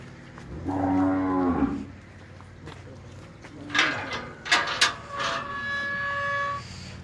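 Cattle on a cattle farm, a long, loud, deep moo from one animal near the start, then a second bellow rising over someone speaking nearby, with a brief high tone in the background.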